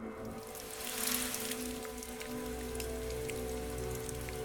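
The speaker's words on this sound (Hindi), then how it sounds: "बारिश अब तेज होने लगी थी।" Heavy rain pours steadily, as if onto a truck on a stormy night, a dense, continuous hiss with a low rumble beneath and scattered louder drops, briefly swelling near the start.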